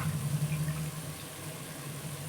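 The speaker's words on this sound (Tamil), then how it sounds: "அதுக்கு நான் 3 டம்ளர் தண்ணி சேர்க்குறேன்." Water pours steadily into a cooking pot of rice and green peas for peas pulao, a continuous splashing flow that fades and thins partway through, with no talking.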